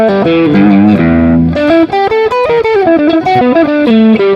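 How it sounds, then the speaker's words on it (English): Electric guitar with reverb through a Flamma FM10 USB mixing console, loud distorted chords followed by a run of quick picked notes ringing into a reverberant wash. "I'm gonna hit reverb."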